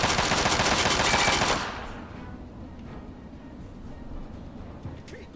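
In the game Fallout 3, loud rapid automatic gunfire rattles up close in a fast burst, then cuts off, leaving quieter background game ambience.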